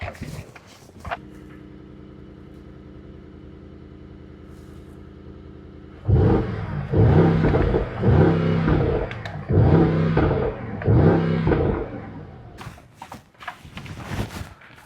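Rear spoiler lip on a 2026 Mercedes-AMG GT 63 4-Door deploying: a steady electric motor whir, then a louder pulsing mechanical hum with repeated surges, close by and without speech.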